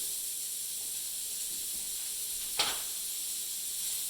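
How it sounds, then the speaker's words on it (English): Sausage sizzling in an already hot pan for shrimp étouffée, a steady, close hiss of frying fat throughout with one brief sharper crackle partway through. "since we already got some heat in this pan, I'm just going to get some color on this sausage too"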